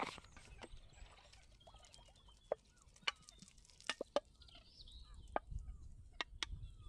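Ducks somewhere in riverside reeds give scattered, sharp calls and quacks over quiet background rustle, heard from a short distance.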